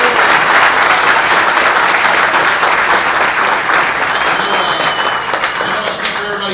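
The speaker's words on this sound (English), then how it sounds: "just want to give a quick round of applause" Loud, steady applause from a crowd of local football teams, sustained and even throughout with no break.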